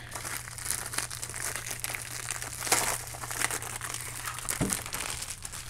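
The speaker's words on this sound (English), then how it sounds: "Trying to slice this so I don't cut open the actual cassette packaging." Plastic packaging around Japanese cassette tapes is sliced open, giving steady close crinkling and rustling with a few sharper crackles and no voices.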